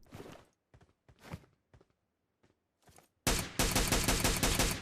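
PUBG firefight: several separated single gunshots and footstep-like thumps, then a sudden loud, sustained burst of rapid automatic gunfire that continues to the end.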